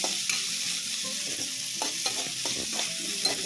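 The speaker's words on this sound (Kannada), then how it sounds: "ಎರಡು ಕಟ್ ಮಾಡಿಟ್ಕೊಂಡಿರೋ ಟೊಮೆಟೊ ಅದಕ್ಕೆ ಅಪ್ಲೈ ಮಾಡಿದ್ದೀನಿ ಹಾಗೆ ಈ ಥರ ಫ್ರೈ ಆಗಿರಬೇಕು" Chopped tomatoes fry in a pan for a Malenadu-style mushroom curry, a steady close sizzle with light stirring scrapes throughout and no voices.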